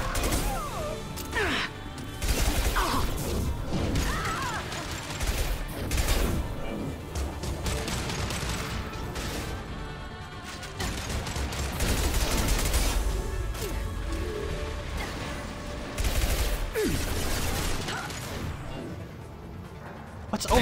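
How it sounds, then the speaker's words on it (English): Gunfire aimed at the player in the game Mass Effect 2, a dense barrage of sharp shots and crashing impacts that keeps going throughout, with someone speaking briefly over it. "What's over there shooting me?"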